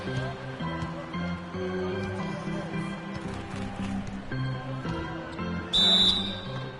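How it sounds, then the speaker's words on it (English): A referee's whistle in NBA 2K16 cuts in as a short, shrill blast near the end, above continuous game commentary and arena background. "And there's the whistle, fouled hard on the shot"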